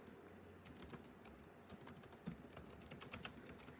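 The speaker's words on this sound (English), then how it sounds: "And I'm just typing it out." Steady, quiet clatter of keys as someone types out a personal letter on a computer keyboard, with rapid irregular clicks and a few louder strikes near the end.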